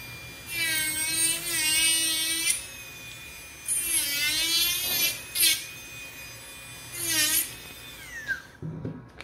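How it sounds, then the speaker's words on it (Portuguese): A high-pitched rotary dental drill bit whines in three main bursts, with one brief touch between them, as it trims excess material from a dental guide. The pitch wavers under load, and the sound is close and alone. "Vou dar um acabamento com a broca."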